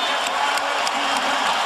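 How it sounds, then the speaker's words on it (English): Basketball arena crowd cheering after a defensive stop, a steady, loud roar of many voices filling the whole moment without letup. "And here comes the crowd."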